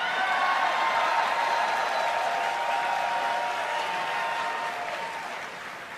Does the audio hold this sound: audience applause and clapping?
yes